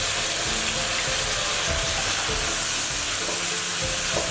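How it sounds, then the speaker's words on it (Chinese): Pork slices stir-frying with cooking wine in a hot pan, a loud steady sizzle with scraping stirs running throughout, close and alone with no talk. "放入猪肉，"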